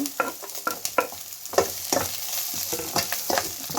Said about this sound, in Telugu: ఫ్రై కానివ్వండి ఎర్రగడ్డలు ఆనియన్ కొంచెం ఫ్రై అయిందండి